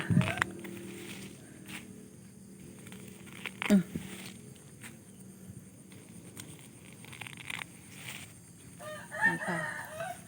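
Farmyard chickens and a rooster crow and cluck faintly in the background, with scattered sounds of people nearby and a few louder knocks.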